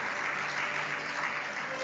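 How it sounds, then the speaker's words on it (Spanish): Audience at a church campaign event clapping loudly and continuously, a brief, dense burst of applause. "denle un fuerte aplauso"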